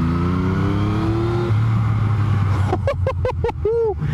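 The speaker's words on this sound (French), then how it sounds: "petit test d'une nouvelle moto, une MT-09" A 2019 Yamaha MT-09 motorcycle engine revs up close, its pitch rising and swelling for a few seconds before sharp, chirping bursts cut in at the end.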